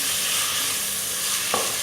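Tomatoes with ginger garlic paste sizzle and fry in a pan for chicken biryani, a steady, close hiss with a brief stir or scrape near the end, no voices.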